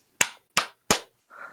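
Three sharp, evenly spaced hand claps close by, each crisp and separate, followed by a softer, duller sound at the end.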